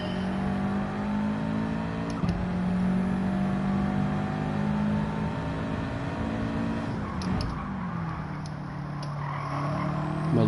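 Race car engines in Gran Turismo 7 hold steady, loud revving drones with shifting pitch, with a brief dip and a change of engine note partway through, and no talk.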